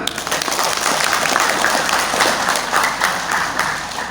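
Applause from the audience at an installation ceremony for KERIS board members in Pekanbaru, a dense steady patter of many hands that holds at even loudness for about four seconds.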